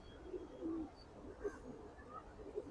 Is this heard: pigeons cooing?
yes